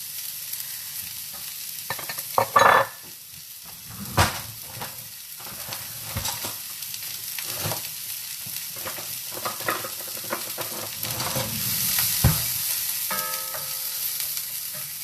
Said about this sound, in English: You just want to brown the onion a little bit before you start adding the other ingredients.